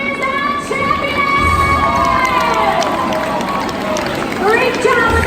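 A live stunt show crowd at a theme park cheers and shouts loudly as a competition ends, with excited voices and whoops overlapping throughout at close range.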